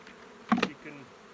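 Honeybees around a beehive mating nuc, a brief close buzz rising and fading over quiet background.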